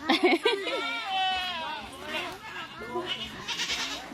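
A goat bleats several times nearby, wavering cries mixed with people talking and children's voices.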